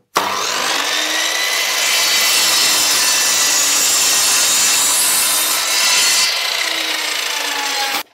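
A handsaw cuts an angled line through a wooden part. The close, loud rasping strokes run continuously for about eight seconds, then stop abruptly.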